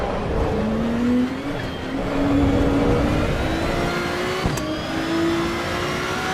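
A BMW race car engine in Assetto Corsa EVO, droning and revving steadily with rising pitch through gear changes, close and loud, with another car's engine whirring nearby.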